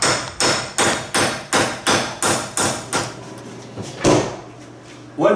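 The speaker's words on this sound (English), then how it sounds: "I usually use a hammer and this pointed chisel thing and knock it out." A hammer strikes a pointed chisel to knock a pinion out of a Dana 35 axle, with seven evenly spaced, loud metallic blows followed by a few lighter knocks and a final heavier hit, close and alone.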